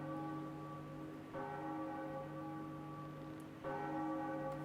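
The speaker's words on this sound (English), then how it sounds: "And as we ring the bell atop the Tower of the Gods" A metal bell rung atop the Tower of the Gods in a game, two resonant strikes a few seconds apart, each leaving a long sustained ringing tone that fades slowly.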